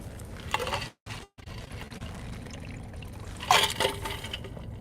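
Water poured to refill a drink at close range, a soft trickling splash rising and falling over a few seconds with brief quiet gaps, no voices.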